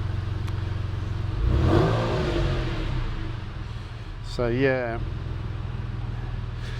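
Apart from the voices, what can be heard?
Porsche engine running with new exhaust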